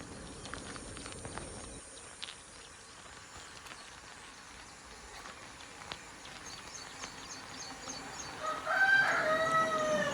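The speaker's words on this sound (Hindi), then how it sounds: "ध्यान से सुनो, पंछियों की आवाज़ आ रही है मस्त।" Chickens and other birds calling in the morning at a cow shelter, scattered clucks and chirps over a low background, with a louder rooster-like crow near the end.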